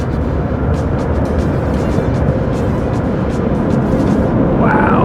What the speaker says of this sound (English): Oh, those are the air dryers.